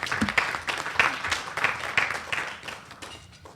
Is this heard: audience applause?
yes